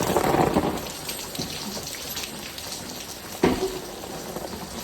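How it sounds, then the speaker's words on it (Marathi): Heavy rain pours steadily, a dense roaring hiss, with a low rumble early on and a sharp crack partway through. "बापूजी पाऊस पक्का पडतो"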